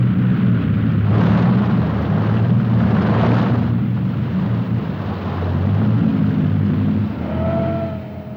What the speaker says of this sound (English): For speed, it can accelerate from a standing start to 32 kilometers or 20 miles per hour in only 6 seconds.